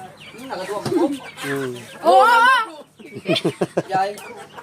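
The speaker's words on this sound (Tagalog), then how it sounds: "Pakainin natin yung manok." Chickens cluck and squawk close by in short, choppy bursts on a farm at feeding time, mixed with people talking nearby.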